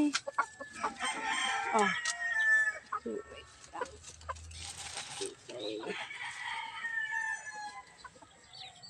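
Sussex chickens cluck and call in a backyard coop with egg-laying nest boxes, a busy close mix of clucks and squawks, with a brief voice heard under them.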